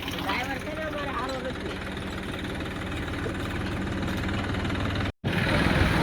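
A close tractor engine chugs at a steady idle, loud and continuous, the tractor fully loaded with people sitting on top talking over it; it cuts out briefly near the end.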